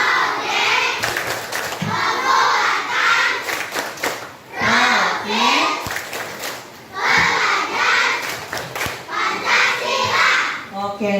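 A classroom of children shouts the Tepuk P5 clapping chant together, loud rhythmic group voices with bursts of hand claps and cheering between lines.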